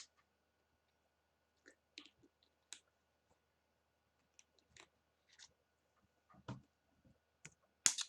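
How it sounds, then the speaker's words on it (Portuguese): Scattered sharp clicks from a computer keyboard, including an Enter key press, during a Microsoft development programming class. The taps are isolated, quiet and unevenly spaced, with a louder cluster near the end and no talking. "Oh, dei um enter."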